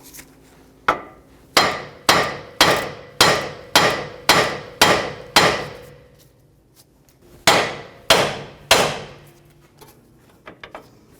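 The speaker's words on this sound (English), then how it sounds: "We're going to hit it right here on the knuckle to get that to pop up." Loud, sharp hammer blows on a steel steering knuckle of a 2011-2017 Honda Odyssey: a rapid run of about eight strikes, a pause, then three more and a few lighter taps, each ringing briefly.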